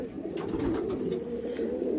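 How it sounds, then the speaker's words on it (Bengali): Andhra Lambadi pigeons, a male and a female, cooing close up in a continuous throaty rolling murmur with slight pulsing. "এটা ছিল নর পায়রা আর এটা হচ্ছে মাদি পায়রা"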